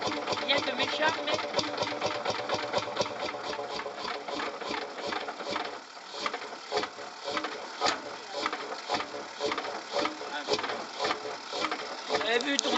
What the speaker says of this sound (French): Vous avez vu tourner un moteur comme ça déjà, monsieur?